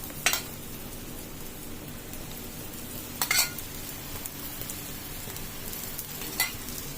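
Oil sizzles softly as Telangana sarva pindi, a rice-flour flatbread, fries in a pan, a quiet steady hiss broken by a few sharp crackling bursts.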